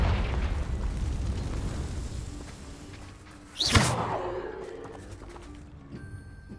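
A Confringo blasting spell fires in the Hogwarts Legacy video game, a whooshing streak followed by a sharp explosive boom that trails off, set over a rumbling ambient game background.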